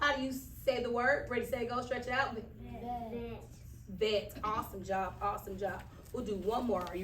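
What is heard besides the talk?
No distinct noise like a dog, phone or traffic.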